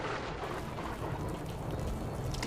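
Rain pours during the rainy season in Brazil's Pantanal wetland, making a dense, continuous hiss with a low rumble of thunder beneath it. The sound stays loud and even throughout.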